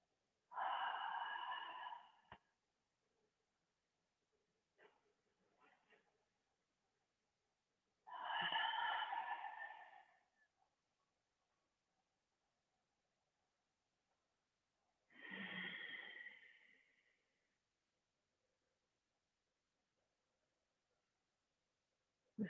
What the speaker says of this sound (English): It's called spinal cord breathing.